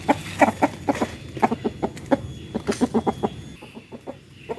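Chickens cluck in quick, uneven bursts close by, a busy flock chattering continuously with short pauses between clusters of calls.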